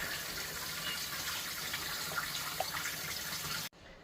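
Steady rush of warm tap water running into a sink while a container is washed out, continuous and close, ending abruptly.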